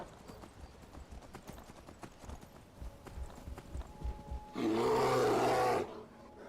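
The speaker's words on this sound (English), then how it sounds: "Oh look, more bears." Deep, loud bear roars in a survival-mode video game, lasting over a second near the end and following a run of steady clip-clopping hoofbeats from a horse.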